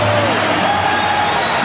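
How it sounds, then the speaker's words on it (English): A packed United Center basketball crowd roars in a standing ovation during Game 6 of the 1996 NBA Finals, Bulls against SuperSonics: a dense, continuous wall of cheering and whooping that holds steady and loud. "Standing ovation"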